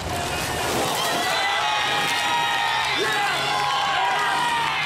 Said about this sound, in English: The crowd's going crazy off the blocks